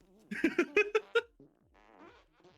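A cartoonish fart sound effect in the party game Guilty As Sock plays as a rapid, loud sputtering burst of about six pulses, then trails off into a fainter, wobbling tail.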